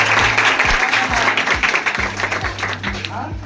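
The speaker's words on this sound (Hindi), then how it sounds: "एक बार ताली बजाएं सब।" Students clap together in a classroom, a quick run of close, sharp claps with steady rhythm that thins out toward the end, with some voices under it.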